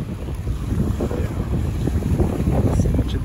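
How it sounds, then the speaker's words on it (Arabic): Strong sea wind blowing over a small fishing boat, a steady rushing roar with microphone buffeting and faint water sounds, loud and continuous with no clear talk. "دي الرياح"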